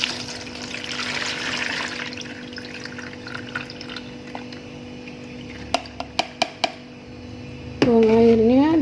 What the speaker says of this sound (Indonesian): Sekarang kita akan tiriskan ya. Dibuang airnya seperti ini.